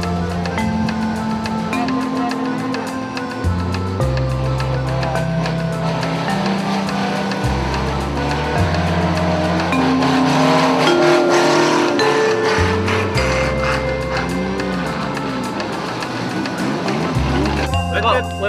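Cars racing hard in a demolition derby team race, roaring engines shifting through gears up close with tire squeal and skidding, a loud continuous mechanical din with no clear talk over it.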